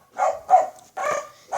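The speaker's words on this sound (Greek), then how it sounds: "δεν ξέρω αν τα ακούτε, είναι το σκυλί μου" A pet dog barks loudly nearby in a room during a live online game session, four sharp barks in quick succession with short silent gaps between them.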